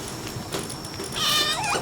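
A cat creature in the Palworld video game meows, a drawn-out wavering high cry that rises and bends near the end, preceded by scattered game effects and heard clearly and fairly loud without any talking.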